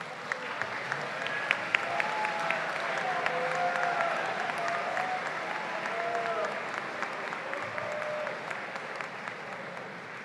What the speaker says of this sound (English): join me in applauding them for the love and sacrifices they have made for you.